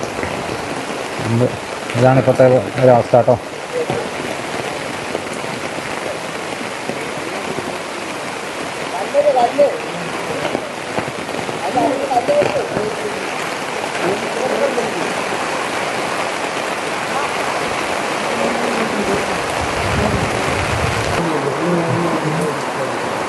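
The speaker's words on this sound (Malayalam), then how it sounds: "മഴ" Heavy monsoon rain falls steadily at a forest well-digging site, a dense continuous hiss throughout, with someone talking briefly over it.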